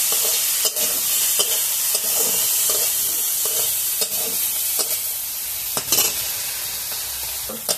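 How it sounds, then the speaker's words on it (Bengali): Prawns seasoned with salt and turmeric sizzle steadily in a pan while a utensil stirs them, its scrapes and taps landing at irregular intervals over the constant frying hiss. "লবণ হলুদ দিয়ে নাড়িয়ে চাড়িয়ে ভেজে নিচ্ছি চিংড়ি মাছটা।"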